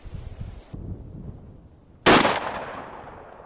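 A single sharp blast from a Mossberg 500 20 gauge shotgun with a turkey choke firing a turkey load outdoors, loud and close, with a decaying tail after the shot.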